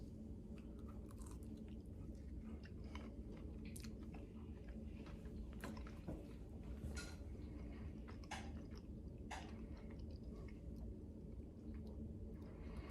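Someone chews and crunches a bite of Nuchas delivery food close to the microphone, faint and quiet, with soft irregular bites and squishy chewing over a low background hum.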